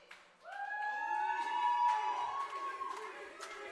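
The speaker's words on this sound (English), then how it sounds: "Everybody cheering for Reese." A wrestling crowd at a Pittsburgh fight night cheers for wrestler Reese Hayes. It rises sharply into a burst of shouts and high whoops, peaks quickly, then tapers off.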